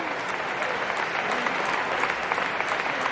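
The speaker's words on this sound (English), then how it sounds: "Clap it up for that" Steady, dense applause from a large crowd at an investment festival, loud and continuous for the whole stretch without a break.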